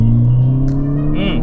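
A Volkswagen MK6 GTI on Firestone Firehawk Indy 500 tyres revs at the line for a hard launch: a close, loud engine drone whose pitch starts to climb in the final moment.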